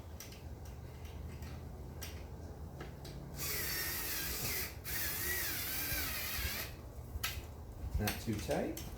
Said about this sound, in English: start tightening all this down now that we're together. So I will use the wrench that was included.